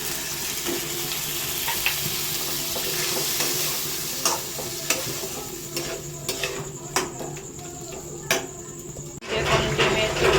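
Turmeric, chili, coriander and Kashmiri chili fry in hot oil for Hyderabadi-style egg do pyaza, a close, steady sizzle broken by sharp spatula scrapes and taps against the pan.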